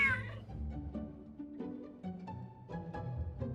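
A cat meows in the video game Genshin Impact, with faint repeated meows over soft game background music, quiet and steady throughout.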